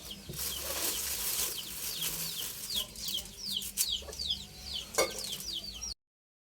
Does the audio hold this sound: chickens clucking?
yes